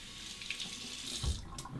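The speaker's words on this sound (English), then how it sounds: "You can just run it under the hot water." Hot water runs from a tap onto a synthetic shaving brush, a steady close splashing stream with a brief louder gush and a few small splatters near the end.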